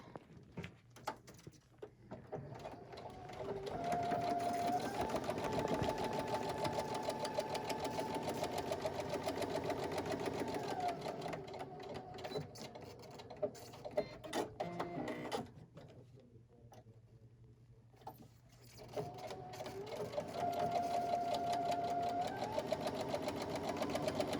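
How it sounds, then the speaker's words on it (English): A sewing machine top stitches a fabric face mask, running in a steady mechanical whir that pauses briefly partway and then resumes, fairly quiet and close with no talk. "I'm going to top stitch from the edge of the fabric all the way through to the zigzag"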